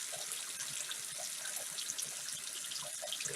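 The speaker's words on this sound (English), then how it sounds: "Yeah, I just let the water run." Tap water runs steadily into a sink while makeup brushes are rinsed on a silicone cleansing palette, a continuous splashing hiss with small bubbly gurgles, close and alone.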